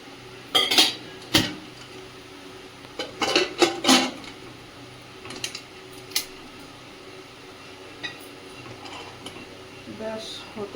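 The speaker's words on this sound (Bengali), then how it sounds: "প্রেসার কুকারের ঢাকনাটা দিয়ে দেবো।" A metal pressure cooker lid is fitted onto a pot of cooking goat meat, producing a few sharp, loud clanks and clatters early on, followed by quieter scattered knocks of metal against metal.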